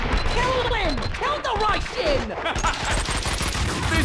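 Gunfire in Max Payne 2 crackles in fast bursts and single shots throughout, layered under shouting voices and game chatter, loud and dense from start to finish.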